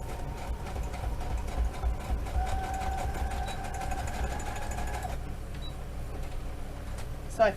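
A sewing machine stitching through a collaged journal page: a steady, fast mechanical whirring that runs close and continuous for several seconds and then stops near the end.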